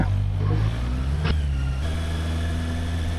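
A Honda CB650R E-Clutch motorcycle engine runs nearby with a low throbbing tone, one brief blip of revs partway through, then settles to a steady idle.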